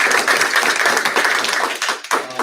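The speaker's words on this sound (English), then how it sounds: "So round of applause for her." Applause at a school board meeting, a dense wash of clapping from the room that runs steadily and drops briefly near the end before picking back up.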